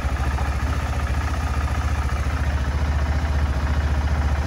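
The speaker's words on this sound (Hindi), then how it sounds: "अभी ज़रा KTM गर्म करनी पड़ेगी क्योंकि बहुत दिन से ऐसी खड़ी है।" A KTM motorcycle engine idles while warming up after standing unused for a long time, giving a steady, close, continuous low throb with a faint rhythmic clatter throughout.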